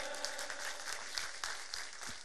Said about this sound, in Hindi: एक बार जोरदार तालियां उनके लिए हो जाए।